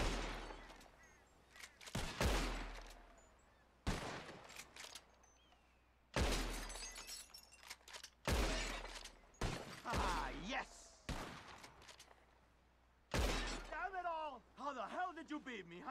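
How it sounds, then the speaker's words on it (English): Revolver shots during a bottle-shooting contest in Red Dead Redemption 2, six loud sharp cracks spaced a couple of seconds apart, each followed by breaking glass, with voices talking between some shots. "Whoever shoots more of these bottles wins."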